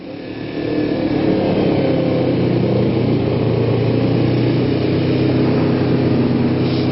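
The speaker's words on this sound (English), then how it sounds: "I've got the choke about 3/4 open. It's idling about 4K." A Kawasaki Ninja 250 motorcycle engine idles fast on choke during a cold start, a steady, even drone held near 4,000 rpm, close and constant throughout.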